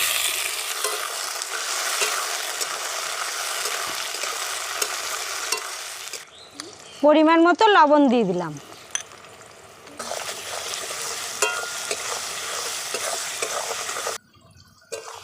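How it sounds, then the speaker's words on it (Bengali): Potato pieces fry in a pan with tomato, cumin, cloves and cinnamon, giving a steady close sizzle with stirring. It stops midway for a short stretch of talk, then the frying resumes before a brief pause at the end. "দেখো বন্ধুরা আলুগুলো কি সুন্দর ভাজা ভাজা হয়ে গেছে"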